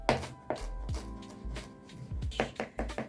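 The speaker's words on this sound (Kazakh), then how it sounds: "Енді осы укропымызды майдалап турап аламыз" A knife chopping fresh dill finely on a cutting board, with a run of sharp close taps, some quick and clustered, others spaced apart.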